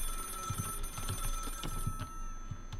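A telephone rings in the indie horror game Lakefront Restaurant, set in a haunted restaurant kitchen: a steady, moderately loud run of repeated ring pulses over a low background hum, with no talking.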